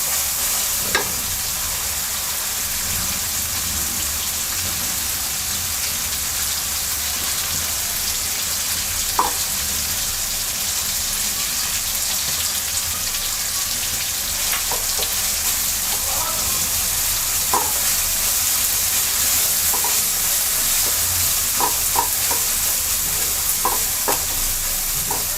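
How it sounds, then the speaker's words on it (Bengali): Sesame paste fries in a pan with cooked-down spices ahead of the shrimp for til chingri, giving a steady sizzle throughout, with scattered stirring scrapes and small clicks from the spoon. "এবার আমরা তিল বাটা দিয়ে দিচ্ছি।"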